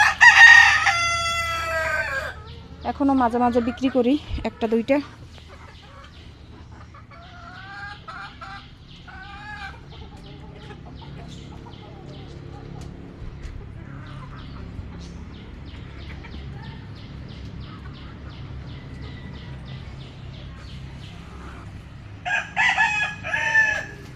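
Free-ranging backyard chickens outdoors: a rooster crows loudly at the start and again near the end, with scattered clucks and soft hen calls between, while a person speaks briefly in the middle.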